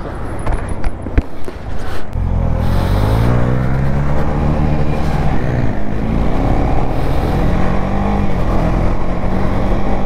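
A KTM 390 motorcycle engine drones steadily and loudly while being ridden, its pitch rising and falling gently with throttle changes for the whole stretch, with no voices.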